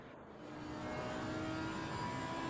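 A race car engine in Assetto Corsa Competizione hums steadily and swells slightly as the car turns into the pit lane, a moderately distant mechanical drone with no talking.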